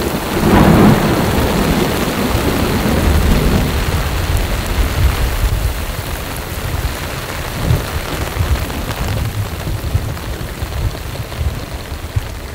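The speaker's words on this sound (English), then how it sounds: "it now sounds like there's a wicked storm right over here coming this way" A thunderstorm sits right overhead outdoors: steady heavy rain hisses on surfaces while a loud, close thunder rumble rolls early on and fainter rumbles follow under the downpour.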